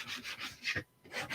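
A hand sanding block lightly rubs the top of a wooden tower-game block. Soft, quiet back-and-forth rasping strokes come in a steady rhythm, close up, with one brief pause.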